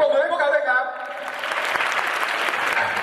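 Audience applause breaks out at a Thai country (luk thung) song contest, following harmonic singing or music and building into a steady wash of clapping in a hall.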